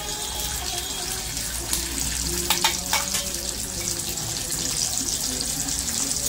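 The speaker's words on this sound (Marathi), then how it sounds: "कांदा परतून घेऊ।" Steady sizzling of half an onion frying in hot oil for a tempering, a continuous crackling hiss with a few brief clinks partway through.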